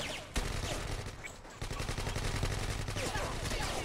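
A gunfire exchange in a shooter video game: a sharp shot opens, then rapid bursts of automatic fire rattle continuously, with a steady low hum underneath.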